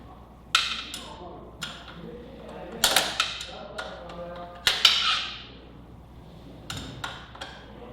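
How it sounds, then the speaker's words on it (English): A ratchet tightens the exhaust hanger bolt on a Yamaha R6 sport bike fitted with a full M4 exhaust, giving a handful of sharp metallic clicks in short, spaced bursts, close by and fairly loud. "now we can go ahead and tighten the bolt on the hanger back here"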